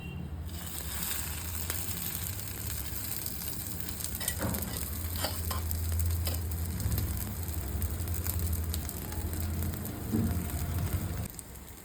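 Potato-filled frankie rolls fry in a pan, a soft continuous sizzle with faint crackles and occasional light scraping.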